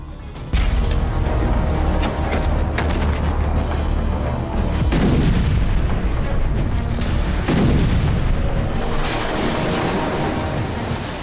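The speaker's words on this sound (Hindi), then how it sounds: "ये ईरान समर्थित शिया मिलिटेंट ग्रुप हिजबुल्लाह के इजराइल पर हमले" Hezbollah rocket and missile attacks on Israel from the Lebanon border, a loud, continuous run of heavy booms and blasts with rolling rumble between them and no pauses.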